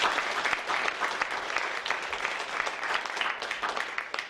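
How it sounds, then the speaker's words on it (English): Crowd applause at a Saskatoon Food Bank Christmas benefit concert at The Refinery, steady and dense with many hands clapping, loud and close, holding throughout without talk. "Give her a big round of applause"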